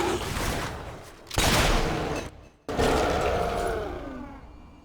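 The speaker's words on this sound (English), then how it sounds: "To be killed by your own shotgun." Shotgun fire in the video game Fable III: two loud, close blasts a second or so apart, each with a long rumbling tail, set against dense, ongoing battle noise.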